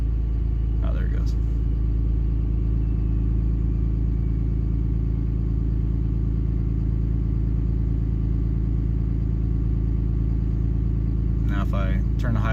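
A Yamaha Banshee ATV engine idles at high idle in a cold start, a loud, steady close rumble that holds without change from start to finish.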